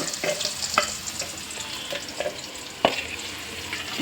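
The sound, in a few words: onions frying in a pan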